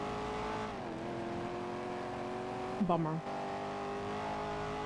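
A car drives along in GTA roleplay on NoPixel, its engine a steady hum that shifts pitch as it accelerates, with a brief tire squeal late on and a voice talking briefly over it.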